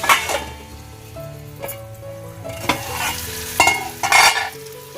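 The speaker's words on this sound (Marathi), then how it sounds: "मस्त टमाटर पण चांगला परतून घ्यायचा आहे" Chopped tomatoes sautéed with reddened onion in a pan, a steady sizzle under repeated stirring scrapes and a few louder clinks of the spoon against the pan.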